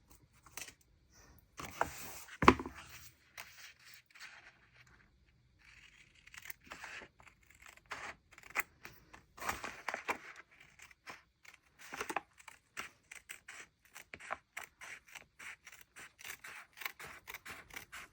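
Washi tape torn by hand while setting up a journal: a sequence of short crisp tearing and crinkling bursts, close and fairly quiet, with pauses between them and no talking.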